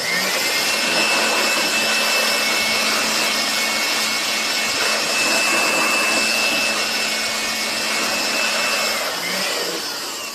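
A leaf blower blows dust out of a piso wifi coin vending machine with a steady, loud, close roar. A high whine sits on top, and the roar holds for about ten seconds with slight swells and no talk.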